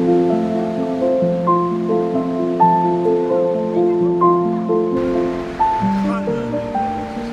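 Many waterfalls pour down after heavy rain at Milford Sound in New Zealand, making a steady, loud broadband roar of rushing water that runs without a break under a layer of music.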